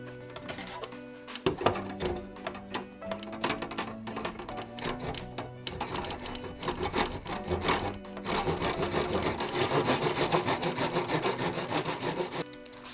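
Fine-tooth hand saw cutting wood for a flag pole: rapid back-and-forth rasping strokes up close, first in short choppy bursts, then settling into a steadier, denser sawing rhythm for the last few seconds, with no voices.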